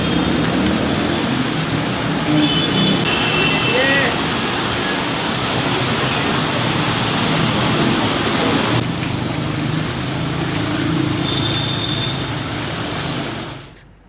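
Heavy monsoon rain pours down in Laksar, a loud, dense, unbroken roar of drops hitting surfaces, close and steady, with faint higher tones briefly underneath before it fades out at the end.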